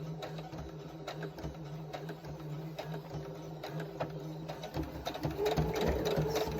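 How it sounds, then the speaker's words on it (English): Sewing machine stitching fabric pieces down, a rapid, close, rattling mechanical hum with ticking needle strikes, growing slightly louder toward the end. "I'm fixing to sew them down."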